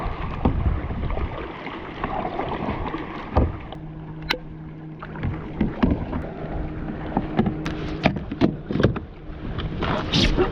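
Paddles dip and splash in water with irregular strokes as a small boat is paddled backwards off a beach in Jamaica, close by, over steady wind and a low background hum.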